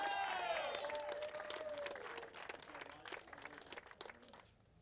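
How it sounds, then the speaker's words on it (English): Faint, distant applause from a speedway crowd after a junior sedan national title race, scattered claps fading out, with a brief whistling tone sliding down at the start. "Let's have a big round of applause for Aidan Rigby"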